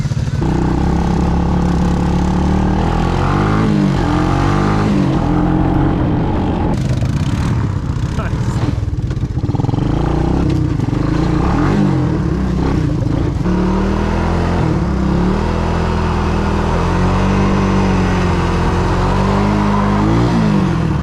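An ATC three-wheeler engine runs at close range, chugging and clattering with uneven revs that rise and fall over about twenty seconds while people talk nearby.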